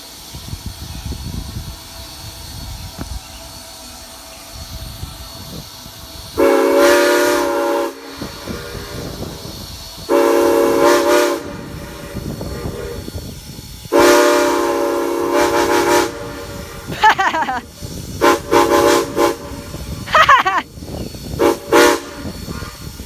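Train #475 sounds a multi-chime SP 6 horn several times in sustained blasts and shorter bursts, echoing off the surroundings over an idling rail background.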